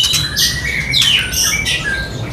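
A trotol songbird, a ringed bird kept by a hobbyist, calling at close range in a run of bright, sharp whistled squawks and sliding chirps, several overlapping phrases in quick succession.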